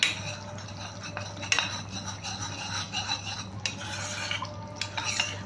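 A spoon scrapes and clinks against a pan while cornflour is stirred into chicken gravy for a lemon pepper chicken dish, giving steady close rubbing and stirring with a few sharper metallic taps. No talk is heard.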